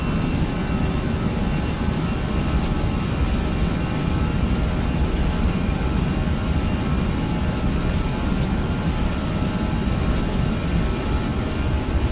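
Twin jet engines of an A320 airliner in a flight simulator roar steadily during the takeoff roll, a dense sustained rumble and whine that holds an even, loud level throughout with no speech.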